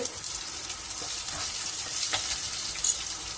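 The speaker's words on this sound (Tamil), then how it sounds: "இப்போ வெங்காயம் போட்டுக்கலாம் சின்ன வெங்காயம்" Small shallots and garlic fry in hot oil for a spinach masiyal, giving a close, constant crackling sizzle with scattered pops and a faint stir or two.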